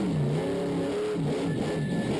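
A monster truck engine revs loud and sustained in a Las Vegas Monster Jam stadium show, its pitch rising and falling in broad sweeps over constant crowd and arena noise.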